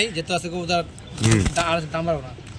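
A low coo from racer pigeons rises briefly amid close conversation, with a hint of wing flutter nearby.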